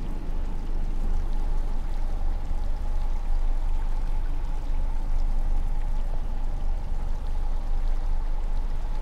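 Steady, continuous water pouring as a container is filled in the video game Skyrim, a loud, even rushing stream that runs unbroken for the whole stretch with no voices.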